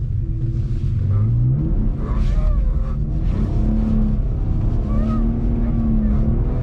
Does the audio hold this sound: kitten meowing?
no